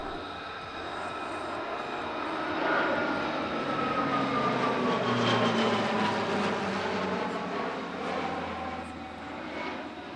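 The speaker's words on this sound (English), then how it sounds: "We start with their very popular C-27J Spartan solo display" A C-27J Spartan military transport plane makes a solo display pass at the Italian Air Force centenary airshow at Pratica di Mare. A steady, droning engine note rises slightly, then holds at a moderate distance, heard on its own.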